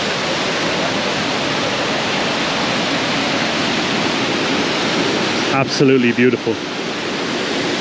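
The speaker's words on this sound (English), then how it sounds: "this amazing, very beautiful natural waterfall here in the middle of nowhere" A natural mountain waterfall near Trabzon, Turkey, roars as a loud, constant rush of falling water that fills the whole scene. A voice speaks briefly over it near the end.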